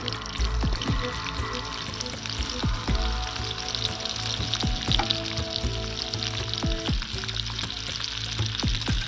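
Onion and garlic frying on a wood-fired chulha stove, loud crackling sizzle throughout with repeated sharp spatters and pops, nearby and steady, no one speaking.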